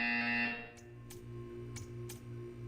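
Buzzer in Portal 2 sounding a steady electronic drone at the start, then stopping and leaving a low hum with several brief clicks.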